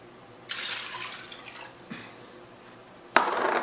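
One and a half cups of water poured into tomato sauce for enchilada sauce: a close splashing pour begins abruptly, trickles and tapers off with a short gurgle, then a second brief splash near the end.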